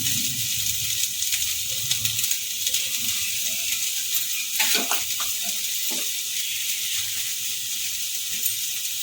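Spring onion and capsicum sizzling in a pan for a vegetable pasta soup, a continuous close hiss with a few brief clatters midway.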